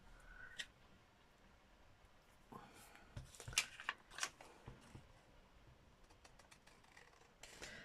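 Scissors snip around a handmade paper craft card, giving faint, close, irregular cutting clicks and paper rustles in a quiet room.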